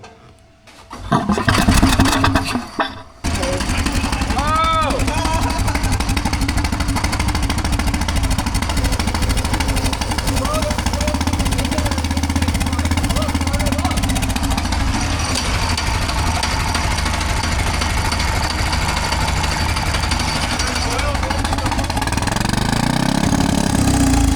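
A turbocharged 390cc golf cart engine cranks briefly, stumbles, then catches and runs steadily at a loud, rough, continuous idle close by, with no talking over it.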